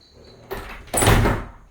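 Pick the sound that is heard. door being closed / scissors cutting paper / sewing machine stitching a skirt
door being closed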